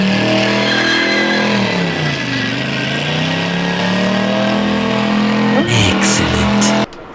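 The engine of a stuffed project car nicknamed the snail, with clutch issues, runs with a loud harmonic drone that dips and rises through revs, then cuts off abruptly near the end.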